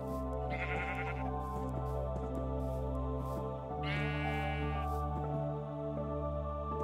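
Sheep bleating in the video game Minecraft, two distinct bleats about three seconds apart, close and clear over a steady layer of background music.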